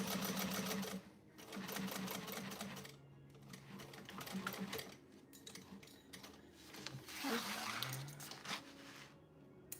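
A home sewing machine runs in bursts while zippers are sewn, its rapid mechanical whir starting and stopping several times with short pauses between runs, close and fairly steady in level.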